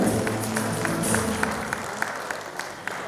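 A crowd at a political party's anniversary gathering applauds to welcome a speaker: dense, steady clapping with a low musical drone underneath, continuous throughout and fairly loud.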